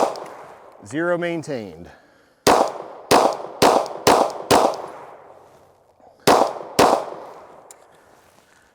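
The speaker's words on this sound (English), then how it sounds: "I'm gonna shoot the third bullseye down now, same distance" Glock pistol fired at a bullseye target from the same distance: a voice talks briefly, then five sharp, loud shots ring out in quick succession, a short pause, and two more shots follow, each with a brief echoing tail.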